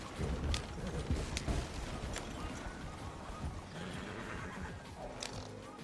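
A horse in the Red Dead Redemption video game whinnies and its hooves clip-clop in a loose rhythm, with faint voices murmuring in the background.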